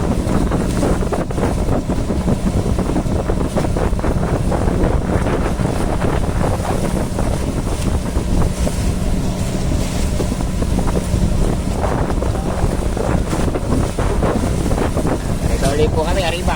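Strong wind buffets a small fishing boat at sea, a constant rough roar mixed with water and hull noise throughout.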